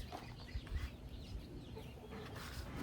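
Chicken clucks from fowl in a backyard garden on a breezy evening, intermittent and moderately close over a soft outdoor background.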